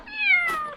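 A young kitten gives a single clear, drawn-out meow close to the microphone, its pitch sliding gently downward before it tails off.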